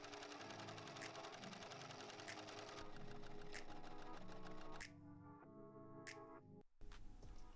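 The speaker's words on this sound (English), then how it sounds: "I can now put it together by sewing that seam." A sewing machine stitches a sleeve seam on a puff-sleeve T-shirt, a steady rapid mechanical whirr with a quick rhythmic needle pattern that briefly pauses and restarts near the end.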